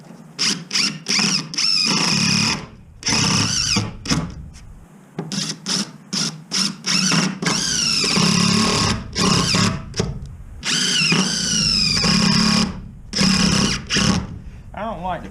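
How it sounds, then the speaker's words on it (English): A power drill drives screws into the wood of an enclosed trailer door, loud whirring bursts that rise in pitch and stop, several in a row with short gaps between them. "we'll go ahead and shoot us a few screws in there"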